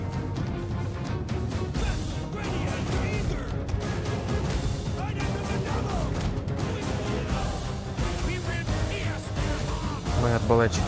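Busy, continuous battle audio from the game Attila: Total War with the Medieval Warfare mod, with dense gunfire, crashes and explosions layered under music, steady and loud throughout.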